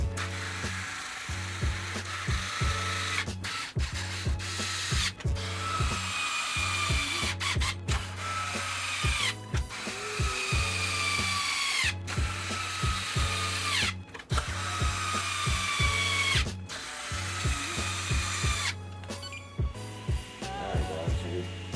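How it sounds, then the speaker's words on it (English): Screws driven into a Traxxas X-Maxx servo mount with a power driver, repeated close whirring bursts of a few seconds each separated by brief pauses, with no talk. "We're going to put the 8 screws back in at the top"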